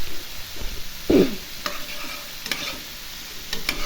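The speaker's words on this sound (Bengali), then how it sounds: "দেখুন আমার মশলাটাও কষানো হয়ে গেছে" Spices being sautéed in a pan as the base for a fish and cauliflower curry, with a steady low sizzle, a louder burst of stirring scrape near the start and a few sharp utensil clicks against the pan.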